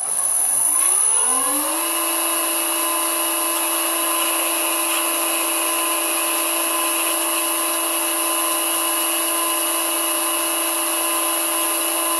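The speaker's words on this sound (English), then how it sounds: "Up next is a pilot drill." A pilot drill spins up with a rising whine and then holds a steady, loud, high-pitched tone as it drills into a chuck wedge, continuous and close with no talk.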